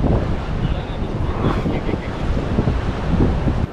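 Sea waves and wind at Mandvi beach in Ratnagiri, a steady loud broadband roar of surf mixed with gusty wind buffeting close to the microphone, continuous throughout.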